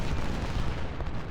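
Continuous rumbling battle din of artillery fire in Ultimate General: Civil War at the Battle of Gaines' Mill, a dense, steady low roar without distinct separate booms, with no talk.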